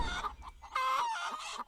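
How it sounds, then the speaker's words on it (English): Chickens clucking in the barn of the video game Noble Legacy Kingdoms, a run of short clucks followed by a longer drawn-out call, moderately loud and steady with no voices. "There we go. Chickens."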